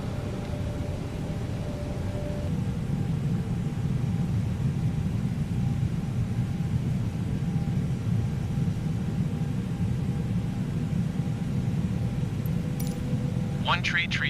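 A steady, broadband airplane engine rumble drones without a break as the aircraft climbs in the video game Flight Simulator 2020, loud and constant with a faint whine above and a brief click near the end.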